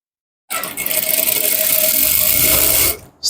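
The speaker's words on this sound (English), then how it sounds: "You start stitching from this edge." A sewing machine stitches along the edge of a man's shorts in one continuous close, loud whirring run of about two and a half seconds, starting abruptly and stopping sharply, with no talking.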